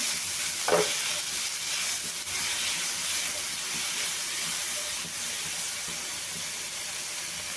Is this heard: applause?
no